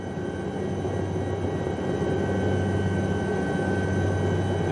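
Simulated SA 315b Lama helicopter in X-Plane 12 descending to land, a steady loud turbine whine and rotor rumble holding constant throughout with no voices.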